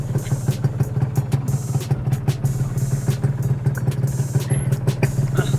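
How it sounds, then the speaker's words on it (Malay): A motorcycle engine putters steadily at low idle while being backed up, with a rhythmic mechanical clatter and small scuffing sounds close by. "Okay, reverse dulu motor."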